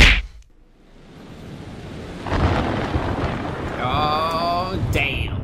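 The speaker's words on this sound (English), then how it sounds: "Storms are brewing." A thunderstorm with rain on the sea in the horror video game Man of Medan: a rolling rumble of thunder over steady, loud rain and wind noise that keeps building, with a brief tonal whine near the end.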